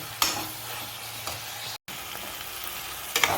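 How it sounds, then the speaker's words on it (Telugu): Onions fry in oil in a pan until golden, a continuous hiss of sizzling with occasional scrapes of a spatula and a brief cut-out partway, near and without speech. "ఇప్పుడు మనకి ఆనియన్స్ గోల్డెన్ కలర్ వచ్చే వరకు ఫ్రై చేసేసుకుందాం"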